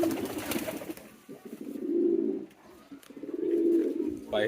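A king pigeon coos in two deep, drawn-out rolling phrases close by, preceded by a brief burst of brighter noise and chatter at the start.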